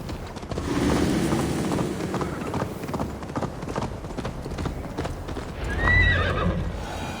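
Horse hooves pound in a fast galloping rhythm in the video game Assassin's Creed Valhalla, close and steady, with a whinny near the end and wind noise underneath.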